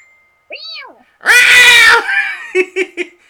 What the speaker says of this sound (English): it's good to have the sound effect of a very surprised cat on hand